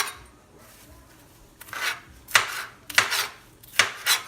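A knife chops small pieces of food on a cutting board for a Doritos taco pasta salad, four or five crisp, separate strikes growing louder toward the end, alone without talk.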